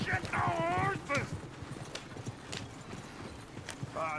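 Horses in the video game Red Dead Redemption 2: clip-clopping hooves in a loose rhythm, with a clear whinny near the start and a voice talking over the hoofbeats.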